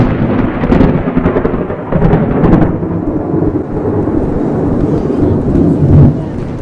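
Thunder from a lightning strike close to a flying kite booms loud and near, a heavy rolling rumble with sharper cracks early on that then settles into a long, sustained roar.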